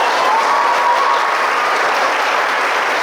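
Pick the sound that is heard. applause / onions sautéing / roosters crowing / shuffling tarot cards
applause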